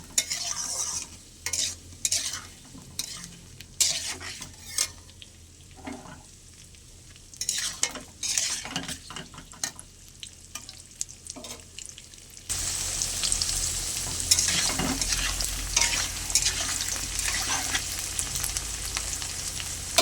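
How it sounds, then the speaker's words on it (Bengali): Potatoes and onions with green chillies fry in a pan, with repeated scraping stirs of a spatula over a soft sizzle, growing into a louder, steady sizzle in the later half. "আলুটা পেঁয়াজের সঙ্গে আরেকটু ভালো করে ভাজা ভাজা করে নেব"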